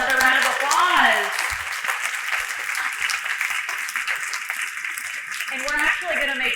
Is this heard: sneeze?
no